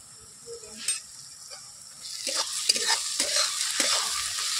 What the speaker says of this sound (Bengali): চিনিটা দিয়ে আমি একটু নাড়াচাড়া করে নিয়েছি।